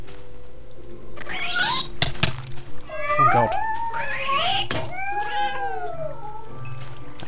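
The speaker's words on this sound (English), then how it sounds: "It's a cat." A Minecraft cat meows and yowls in a string of rising, wavering calls over a faint game background, with a brief exclamation from a person partway through.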